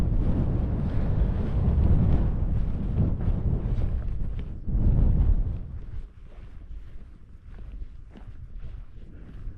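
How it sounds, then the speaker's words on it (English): Wind gusts outdoors on the Kimmeridge coast in Purbeck, roaring loudly for the first few seconds, then easing to a lighter, steady rush. "The wind suddenly sprung up, but that's not affecting the microphone."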